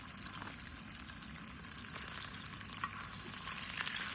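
Pomfret fish fry in a pan with a steady, close, continuous sizzle and crackle at moderate volume, with no one speaking.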